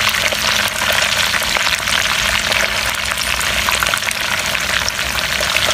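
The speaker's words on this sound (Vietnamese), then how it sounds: "cái này là phải chiên nha chiên cá không phải kho" Stream fish frying in a pan in a mountain home kitchen in Vietnam's Central Highlands, a loud, steady crackling sizzle of hot oil that runs without a break.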